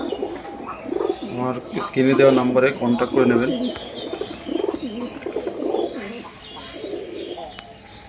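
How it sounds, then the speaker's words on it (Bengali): Pigeons coo in bursts, their throaty calls overlapping with someone talking steadily over them; the cooing sits close and fairly loud, fading a little toward the end. "খুব সুন্দর পায়রা"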